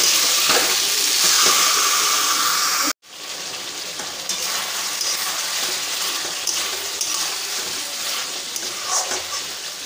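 Chicken with masala sizzles and fries in a pan with steady loud hissing, broken by a brief cut partway before the frying continues, with occasional stirring scrapes.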